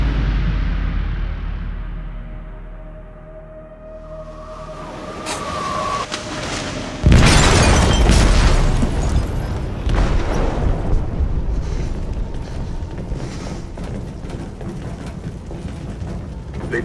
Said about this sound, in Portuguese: They detonated an explosive in the hold. The ship is sinking, sir.